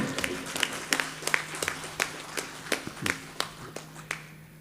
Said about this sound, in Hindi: तालियों से आप सर को आदेशित करें।